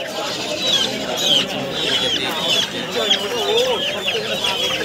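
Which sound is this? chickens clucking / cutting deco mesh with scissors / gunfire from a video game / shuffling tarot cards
chickens clucking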